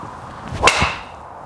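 A single sharp whooshing crack of a low-spin golf driver hitting a ball outdoors, brief and loud over faint background noise.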